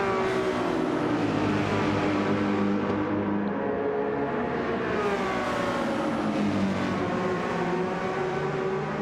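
Race car engines in Gran Turismo 7, a Lamborghini among them, droning loudly and steadily together with harmonic whines rising and falling as the cars shift and jostle, no voices over them.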